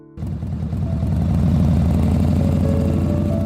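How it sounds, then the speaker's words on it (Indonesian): A motorcycle engine starts up and roars near a school gate, a loud, steady low throbbing hum that rises in the first moments and then holds at a constant level, with no voices. "Suara motor yang menderu membuat Ita memalingkan kepalanya."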